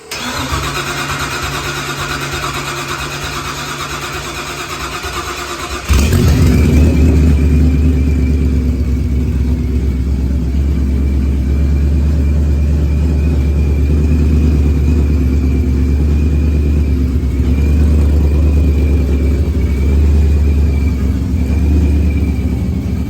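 A Procharger-supercharged Ford Coyote V8 cranks for several seconds, then catches and fires up into a loud, steady, rumbling idle with a faint whine, close by and with no talking.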